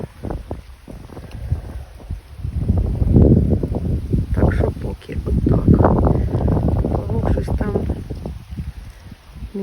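Wind buffets the microphone in a constant low rumble and gusts, with people talking over it in an open outdoor setting near water while fishing.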